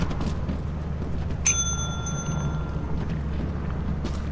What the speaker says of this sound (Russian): Нажмите кто-то на колокольчик ебучий.